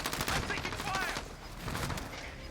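Rattling automatic gunfire in the video game Call of Duty Warzone, quick overlapping shots at moderate volume mixed with game noise and brief voice chatter.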